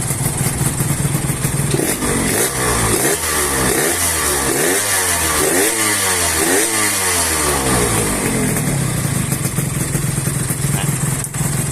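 A Yamaha RXS135 motorcycle engine from the 1980s idles, then revs up and down repeatedly in a rising-falling pattern before settling back to a loud, close idle.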